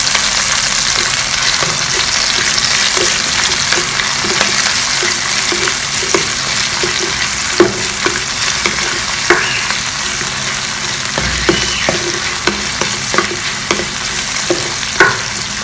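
Rice roasting in a pan, stirred continuously: a loud, even frying hiss with repeated scraping knocks of the spoon spaced through it, close by and without speech.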